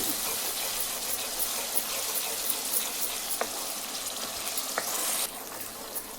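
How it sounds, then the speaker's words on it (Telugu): Small anchovy fish frying in hot oil, a steady, moderately loud hiss and crackle with a few sharper pops and a slight drop in intensity near the end, with no voices. "ఇట్లా నూనెలో మాడకుండా మంచిగా బున్నంచుకున్నా"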